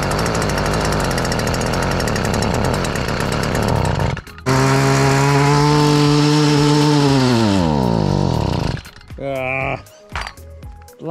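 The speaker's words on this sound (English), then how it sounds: "Got the whipper snipper brush cutter thingy going" Small two-stroke engine of a whipper snipper brush cutter running loud and close, a steady high buzz that drops to idle, revs back up and winds down before sputtering, with brief bursts at the end.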